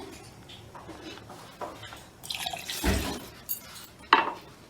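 Cold water poured into a pot on the stove while making Kashmiri tea, a splashing pour that builds and peaks with a sharp metallic clink near the end, fairly close.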